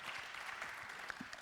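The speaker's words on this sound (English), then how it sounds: "A massive round of applause for you all" A studio audience gives a short burst of applause for the panelists at the close of a panel discussion, with steady clapping throughout and a few louder claps standing out.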